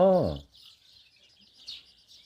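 A brief voice at the start, then many faint, high-pitched peeps chirping continuously in the background like a crowd of small chicks on a farm raising chicks and ducklings.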